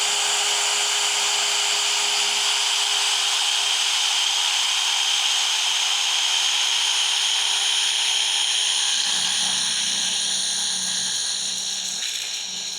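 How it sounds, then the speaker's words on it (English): Steady high-pitched whine of a power drill boring a 1/2 inch hole with a step bit for a trailer repair, continuous and close, with the pitch shifting slightly near the end. "it makes a lot more sense to use a step bit for these holes."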